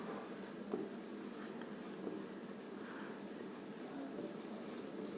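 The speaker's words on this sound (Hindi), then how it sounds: "यहाँ लिख देते हैं ताकि इजी हो जाए" A pen scratches steadily across paper during a ninth-grade maths lesson on congruent triangles. The scratching is faint and continuous, with a few light taps, and it carries on alone without speech.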